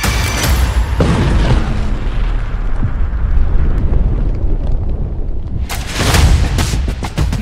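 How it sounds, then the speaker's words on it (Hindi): A large explosion at the Novorossiysk naval base, home to Russia's Black Sea Fleet and a diesel-electric submarine, booms loudly and keeps rumbling with dense low roar, with a second sharp burst near the end. "ज़ेलेंस्की के खुफिया लड़ाके हमला करते हैं और फिर नोवोरोसिस्क अड्डे पर होता है बड़ा धमाका"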